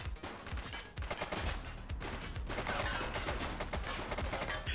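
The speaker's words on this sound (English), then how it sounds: "He's shooting!" A suspect opens fire in The Precinct: sustained, loud bursts of rapid gunshots roll on without pause, dense and close, with heavy overlapping shots throughout.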